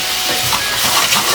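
Steady, fairly loud steam hiss rises while gnocchi cook, a continuous broadband rush with no voices.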